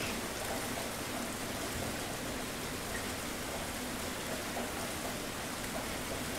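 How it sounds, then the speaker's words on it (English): Steady rain falls evenly with a dense patter of droplets, a constant soft hiss with no pauses and no voices. "listening to all the different sounds water droplets can make"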